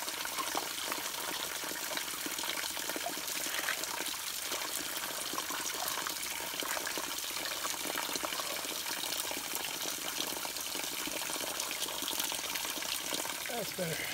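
Clean water runs steadily from a spigot at an on-trail water source along the Appalachian Trail, a faint, continuous trickling flow with no talk.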